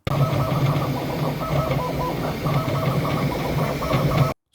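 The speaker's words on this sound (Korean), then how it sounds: "원하는 도면을 골라서 출력을 하도록 명령을 내려놓으면 이렇게 자동으로 3D 프린터가 동작을 시작합니다" A Bambu Lab P1S 3D printer with an AMS filament feeder runs a print, giving a loud, steady mechanical whir with busy rhythmic motor buzzing and clicking that continues without a break.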